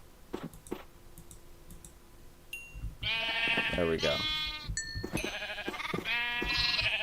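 Sheep bleat repeatedly in the Minecraft video game, a crowded pen of loud, overlapping wavering cries taking over after a few soft clicks, with a brief spoken remark early on.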